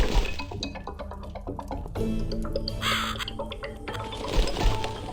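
A crow caws within The Cat Lady video game, loud and close, over dense layered game ambience with clinking and watery textures.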